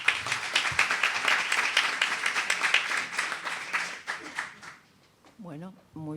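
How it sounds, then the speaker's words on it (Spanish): An audience claps at a book presentation: dense, sustained applause for about four seconds that thins out, then a voice begins speaking. "Un aplauso, por favor."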